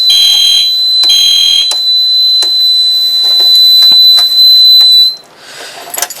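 A home fire alarm system sounds during a test, a loud steady high-pitched tone pulsing with repeated sharp strobe-like ticks, then cutting off abruptly near the end, leaving quieter clicks.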